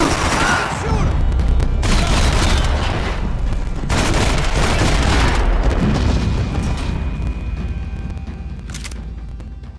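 Heavy gunfire in the game Max Payne 3, sustained loud bursts of shots and booms nearly continuously, with a brief shout mixed in.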